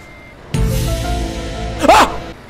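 A truck in Euro Truck Simulator 2 multiplayer rumbles past with a low, steady engine drone that swells over about two seconds, topped by a brief loud whooshing burst as it goes by close.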